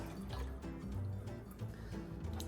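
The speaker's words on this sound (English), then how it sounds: "Pour in 1 cup of hot water." Hot water pours into a container for cleaning makeup brushes, a soft close trickle and dribble with faint splashes, quiet and steady throughout.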